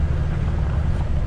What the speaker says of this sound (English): The dryers are running.